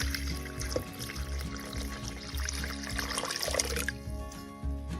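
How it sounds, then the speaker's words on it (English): Two cups of warm water pour steadily into a mixing bowl holding yeast, honey and salt, a continuous close splashing trickle lasting the whole stretch with no talking. "now I'm going to add 2 cups of warm water"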